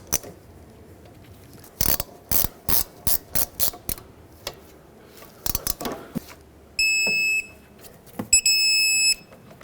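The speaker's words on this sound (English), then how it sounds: "I'm gonna have to hold the slider while I tighten up the bolt." A ratchet tightens a brake caliper bolt on a 2007-2009 Saturn Aura during a rear wheel bearing hub job, with several bursts of loud, close clicking, pauses between them, then a few electronic beeps near the end.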